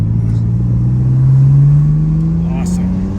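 A BMW M4 CS engine drones while driving up a mountain gravel road, its pitch rising steadily as it accelerates, loud and close inside the cabin, with brief faint noises near the end.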